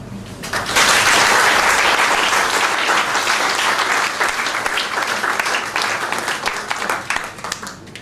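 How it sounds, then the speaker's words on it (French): At a graduation ceremony honoring diploma recipients, an audience breaks into loud, sustained applause and an ovation. Dense clapping from a large crowd swells quickly and then continues steadily, easing slightly toward the end. "Je vous demande de leur réserver une ovation méritée"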